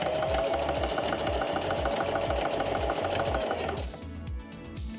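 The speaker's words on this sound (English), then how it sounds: "You can see the machine is going quite a bit slower now that we've got a smaller stitch" A sewing machine runs steadily at a slow pace with a small stitch length, each needle stroke pulsing evenly and close by, then the motor eases off near the end.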